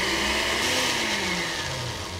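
A food processor whirs as it blends pesto of pine nuts and oil, a steady motor drone with a slowly falling pitch, close and fairly loud, with no one speaking.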